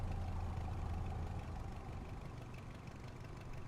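The smoky piston engines of a vintage Aero Ae-45 twin aircraft idle on the ground, making a steady low throbbing drone with a mid-range buzz that holds even throughout, alone without talk.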